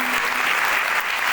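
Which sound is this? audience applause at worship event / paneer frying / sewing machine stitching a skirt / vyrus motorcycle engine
audience applause at worship event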